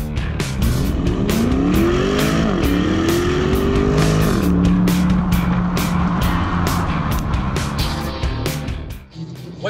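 A 2019 Porsche Panamera GTS Sport Turismo engine revs and accelerates steadily up through the gears, loud and close, with a brief tire squeal.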